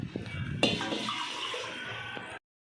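Water pours steadily into a pot for biryani with native chicken for about two seconds after a soft clunk, then stops abruptly.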